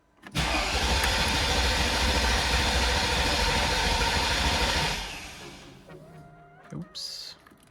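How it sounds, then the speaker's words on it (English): A salvaged Mercedes-Benz CL500 has its engine cranked over in a loud, steady churn for about five seconds before it fires. It then settles into a quieter idle, with a few brief clunks and higher-pitched tones near the end. "we can start the engine"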